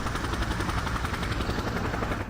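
A helicopter in the video game Just Cause makes a loud, close, rhythmic rotor thumping over a dense engine roar, continuous for the short stretch with no voices.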